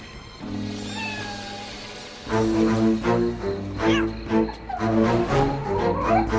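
A cat meows several times in drawn-out, rising cries, loud and close, with a steady background hum and a louder stretch of repeated meows toward the end.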